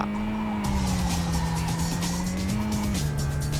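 An AE86 drift car in Super Drift 3D skids continuously with a sustained tire squeal over a steady engine drone, its pitch wavering and dropping slightly toward the end, close and loud with no talking.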